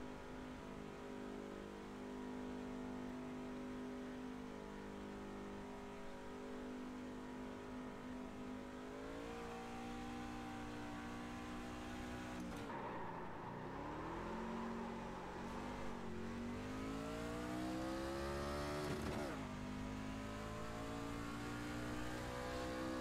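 A NASCAR truck engine in an iRacing sim at Talladega Superspeedway, steadily idling and revving loudly, the pitch climbing and dipping through several throttle blips over a long continuous drone, with no talk.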